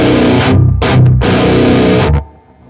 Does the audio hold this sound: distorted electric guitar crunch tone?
yes